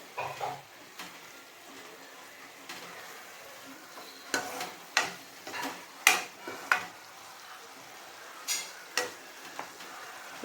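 Flattened rice (avil) stirred in a pan over low heat, a faint dry rustle broken by a run of sharp, fairly regular scrapes and clinks of a spoon against the pan, close and with no talking.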